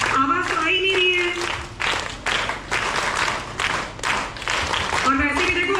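A crowd of children clapping at a college cultural performance in Haldwani, with bursts of applause that rise and fade, mixed with someone talking and music-like tones.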